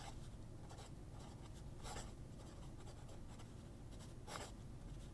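A poster pen scratches across paper in short, close strokes, with a couple of louder swipes standing out over a soft, steady background.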